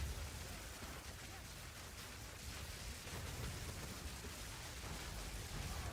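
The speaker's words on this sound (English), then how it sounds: "It's raining." Steady rain hiss from the Path of Exile 2 game world, a dense, even wash of falling drops with a low rumbling undertone running continuously throughout.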